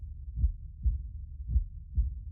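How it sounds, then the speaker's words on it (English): A heartbeat in a Minecraft horror film video game pulses low and steady, four double thuds about half a second apart, close and alone. "You can hear his heartbeat."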